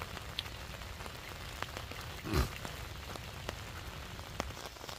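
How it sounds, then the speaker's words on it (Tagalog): Steady rain patters on a surface beside a stream, a soft constant hiss with scattered heavier drops and one brief louder splash, no voices. "lumalakas na yung ulan talaga"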